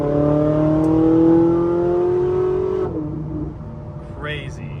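Porsche 997 Turbo with an aftermarket exhaust revving in a loud, rising engine tone that cuts off abruptly partway through, leaving a quieter settling rumble, with a person talking alongside.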